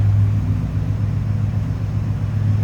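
A 2012 Ford F-150 Raptor SuperCrew 4x4 with its 6.2-liter V8 idles steadily nearby, a deep, even rumble with no other sounds.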